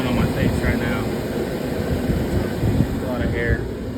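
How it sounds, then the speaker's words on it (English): Rear climate fan of a Toyota Grand Highlander blowing air at full speed, a steady broadband whoosh filling the cabin throughout, with faint chirps and rustles over it. "go to your rear climate, make sure the fan speed's all the way up."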